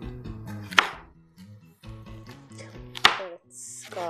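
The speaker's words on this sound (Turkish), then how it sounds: "İki tane daha doğrayacağım biber." A knife chops peppers on a board in a home kitchen while Malatya tava is made, with quick bursts of sharp repeated blade strikes and two louder thuds, separated by brief pauses.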